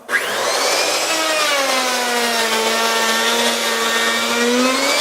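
A panel router cuts a stopped dado into a wood panel, a loud high motor whine that spins up in a moment and holds a steady pitch with a slight rise near the end. Nobody speaks.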